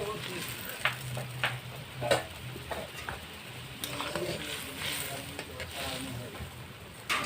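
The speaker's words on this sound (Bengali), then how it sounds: "আর ভেজে রাখা মাছটা দিয়ে দেব" Pieces of fried fish slide into a pot of salted turmeric water at a rolling boil, giving a steady close bubbling hiss broken by a few soft knocks and splashes, with faint voice-like sounds in the background.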